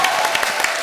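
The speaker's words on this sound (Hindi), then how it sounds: "जोरदार तालियां।" A studio audience at a Comedy Circus taping gives loud, sustained applause, a dense rapid clatter of many hands close and bright throughout.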